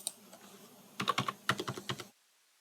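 Keys on a computer keyboard clack in two quick bursts of typing while an online application form is filled in. The taps are close and crisp, with a short pause between bursts and silence at the end.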